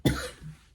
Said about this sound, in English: Oh, sorry about my cough.